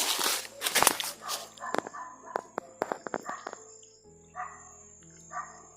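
A dog barks and yips in the distance at night in the outdoors, with a burst of barks followed by a few scattered, fainter ones.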